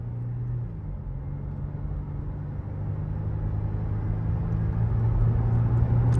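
A flood-damaged Cadillac STS with a 3.6-liter engine drives along, a steady low engine hum and road rumble rising slightly as it accelerates, heard from inside the car with no talking.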